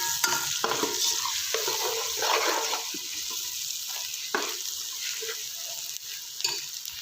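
Ginger garlic paste frying in a pan, a steady close sizzle with stirring scrapes and occasional clicks of a spoon, moderately loud and continuous throughout.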